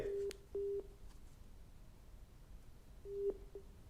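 Short steady electronic telephone tones after a dropped call on a radio phone-in, two beeps near the start and another pair later, over faint line hiss with no talking.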